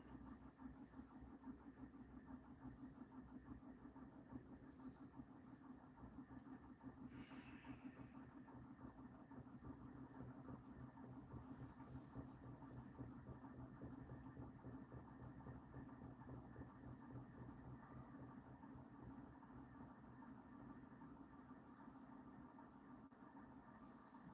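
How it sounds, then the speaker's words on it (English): A diesel engine hums low and steady, faint and continuous throughout with no talk. "Now that sounds more like a diesel engine to me."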